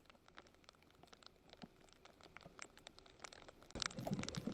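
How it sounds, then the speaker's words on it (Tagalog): Heavy rain patters quietly and steadily during a motorcycle ride, with scattered drops ticking on surfaces. It grows into louder, denser splashing near the end. "Sobra talagang lakas ng ulan."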